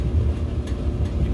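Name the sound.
clothes dryer starting up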